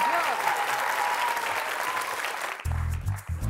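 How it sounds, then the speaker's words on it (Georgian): A studio audience breaks into steady, dense applause on a television medical show celebrating Kote's birthday. The clapping fills the room evenly for a few seconds before an abrupt music sting cuts in at the end. "აპლოდისმენტები"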